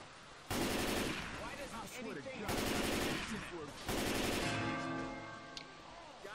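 Gunfire in Left 4 Dead 2 rattles out in three loud automatic bursts about a second apart, with quieter game noise between and after them.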